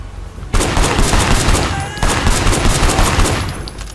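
Sustained gunfire in the video game Sleeping Dogs, a loud, rapid stream of shots starting abruptly and continuing densely, with faint voices underneath.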